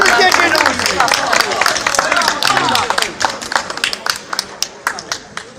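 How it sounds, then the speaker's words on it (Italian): A small audience claps for a performer, a loud burst of close clapping under a speaking voice that thins into scattered individual claps toward the end. "Dobbiamo far sentire anche l'applauso al Giulio."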